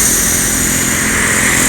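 Bus pulling into a terminal in Palembang, Indonesia, a loud, steady engine drone and rumble filling the whole moment without any pause or talk.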